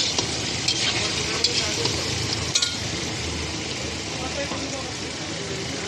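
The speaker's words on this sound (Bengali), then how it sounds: "আর একটু ভেজে নেবো এই জিনিসটাকে, আরও একটু কষে নেবো, তারপরে মশলাটা দেবো।" Spices fry and get stirred in a pan as a steady, loud sizzle fills the whole stretch, with occasional light clinks of the spoon against the metal.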